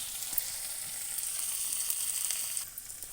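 Spices frying together in a pan, a steady bright sizzle with faint crackles throughout, easing slightly near the end.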